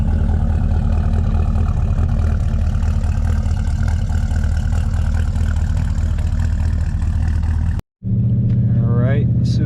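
An LQ4 6.0 V8 with Texas Speed heads and cam and a stall converter idles in gear with a steady, deep, lopey rumble, close up, before cutting out abruptly near the end, followed by a brief burst of talk.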